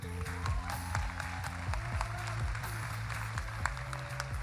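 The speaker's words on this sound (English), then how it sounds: "A great round of applause for them." An audience at a state robotics tournament claps in steady, dense applause throughout, heard under a loud droning tonal background with recurring musical sweeps.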